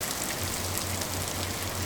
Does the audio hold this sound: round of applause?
no